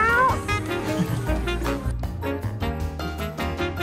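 Cats in a large cat cafe meow loudly and repeatedly, with drawn-out cries overlapping one another close by, while faint voices and background chatter fill the room.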